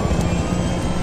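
A jet aircraft roaring in from behind in the video game Battlefield 3, a loud, continuous broadband engine rush that fills the short clip without pause and without speech.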